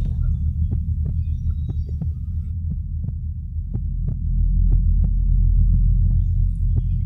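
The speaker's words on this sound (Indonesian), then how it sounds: "Jantungku mulai berdegup kencang dan aku mulai ketakutan saat itu." A steady, evenly paced heartbeat thumps low and close over a constant deep hum, the beats repeating about twice per second throughout.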